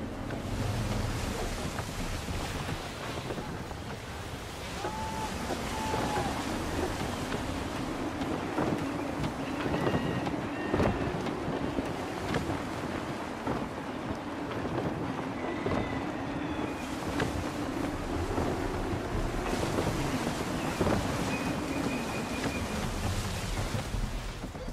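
Gusty wind and open sea around a sailing ship in Assassin's Creed III: continuous roaring wind and surf with creaking hull tones and wave swells, loud and steady throughout.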